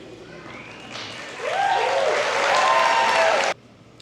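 Audience at a college commencement ceremony breaks into applause that swells after the first second and holds steady, with a few voices audible in the mix, before cutting off abruptly.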